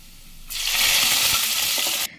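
Hot golden tempering oil with curry leaves poured into a fish curry, bursting into a loud, steady sizzle that starts abruptly, holds for about a second and a half, then cuts off.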